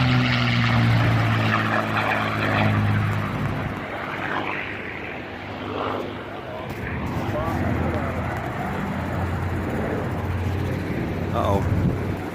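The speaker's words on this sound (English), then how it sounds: "That, my friends, is a P-51 Mustang." A P-51 Mustang propeller fighter roars past at an airshow with a loud, throaty engine drone that swells and fades, while voices from the crowd talk over it.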